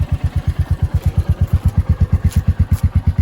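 A motorcycle engine idles close by, its low exhaust thumping in a fast, steady rhythmic pulse with no talking.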